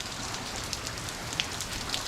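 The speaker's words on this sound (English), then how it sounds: "it's raining again" Steady rain falls on a yard where a French drain is being laid, a dense constant hiss with scattered close drops pattering on nearby surfaces.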